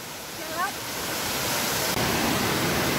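A waterfall at a natural pool area in Abelardo Luz, Santa Catarina, roars as a loud, steady broadband rush of falling water, continuous and close, with a brief voice faintly heard near the start.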